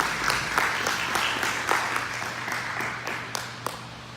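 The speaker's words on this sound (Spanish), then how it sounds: "Dale un fuerte aplauso nuevamente en alabanza." A church congregation applauds in praise, dense sustained clapping with a few sharper individual claps standing out, continuing steadily without speech.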